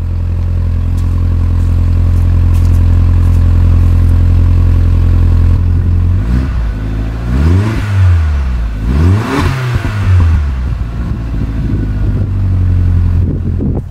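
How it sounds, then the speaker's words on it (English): A first-generation Toyota RAV4 engine idles loudly up close, then is revved in several sharp bursts that rise and fall in pitch before settling back. "let's give her some revs."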